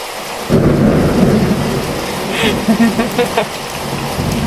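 Thunder rolls in loudly over steady rain in a Sakura School Simulator game scene, with a deep rumble that swells and fades while rain keeps falling underneath.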